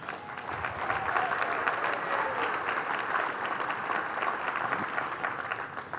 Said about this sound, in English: let's give a big round of applause for Tom Lawrence